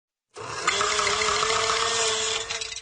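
A kitchen blender jammed with too much ice starts abruptly and grinds with a strained, steady buzzing whine that holds for about two seconds without stopping, loud and close, with no voices.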